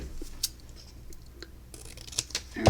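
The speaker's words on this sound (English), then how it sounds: "I'm going to cut this in half. If I can find my scissors." Scissors cut a sheet of paper in half at a crafting table, giving a few faint, scattered snips and rustles, then a louder handling clatter at the end, with no talking.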